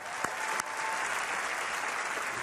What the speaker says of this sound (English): Could I please have another round of applause